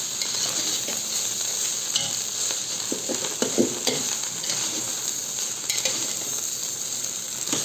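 Nasi goreng being stir-fried in a pan, a steady bright sizzle with occasional scraping and stirring strokes, close and moderately loud, with no voices.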